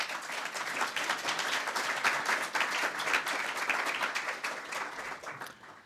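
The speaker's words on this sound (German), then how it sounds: "Applaus" An audience at a public talk applauds with dense, lively clapping in which individual claps stand out, holding steady before tapering off at the end.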